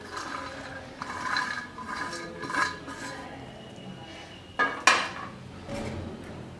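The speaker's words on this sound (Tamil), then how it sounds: "அதில் நறுக்கிய முட்டைக்கோஸை போட்டுப்போம்." Chopped cabbage drops into a pan with soft rustling thuds and a couple of sharper clanks of metal against the pan.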